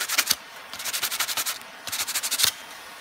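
Coarse sandpaper rubs back and forth in two quick bursts of rhythmic scraping strokes, close and fairly loud, separated by a short pause.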